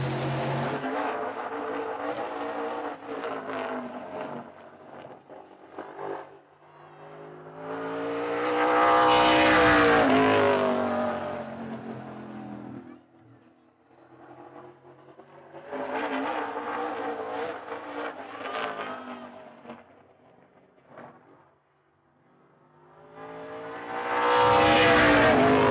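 Chris Babcock's number 22 race car on a time trial lap at Hythe Motor Speedway, repeatedly swelling to a loud roaring pass then fading into the distance as it circles the oval track.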